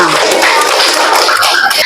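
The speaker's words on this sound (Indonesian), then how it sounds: "Oke, tepuk tangan untuk kita semua" Students in a classroom clap their hands together in a short, loud, dense burst of applause.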